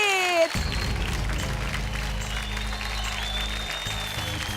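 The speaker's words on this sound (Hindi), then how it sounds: "वो जोरदार तालियां" After a short tonal sweep, loud applause from an audience greets a contest winner, with many hands clapping in a steady, dense roar that carries on to the end.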